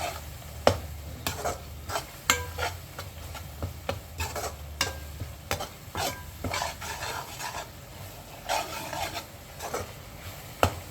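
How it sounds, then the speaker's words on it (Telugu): Green chilies fry gently in oil while a spoon stirs and scrapes the pan in irregular strokes, a soft steady sizzle with sharp clinks against the metal, close by, for bachelor-style uggani. "పచ్చిమిర్చి పచ్చివాసన పోయేంత వరకు మగ్గించుకోవాలి ఆయిల్లో బాగా."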